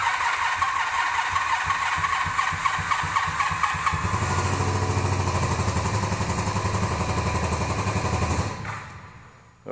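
A cafe racer motorcycle engine cranks with rapid rhythmic chugging, then catches and settles into a loud, steady, close idle before cutting off near the end, with no voices.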